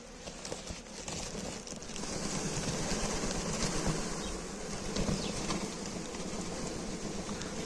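A honey bee swarm is being caught into a hive, heard as a dense, continuous buzzing hum of many bees that swells slightly midway and holds steady nearby.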